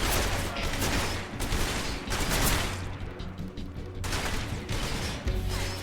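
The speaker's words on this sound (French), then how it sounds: "dans le doute, ils vident leur chargeur" Sustained enemy gunfire in the stealth action game Metal Gear Solid Delta, dense overlapping bursts of automatic fire and shots that keep up steadily for several seconds, loud and continuous with no talk.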